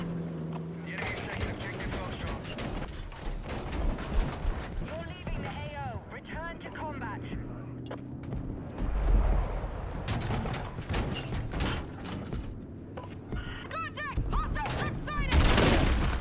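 Artillery and gunfire explosions in a video game, with rapid bursts of shots and booming blasts throughout while voices talk over the battle.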